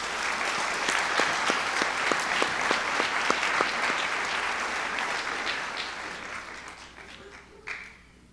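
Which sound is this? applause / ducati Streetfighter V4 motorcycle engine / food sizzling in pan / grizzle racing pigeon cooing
applause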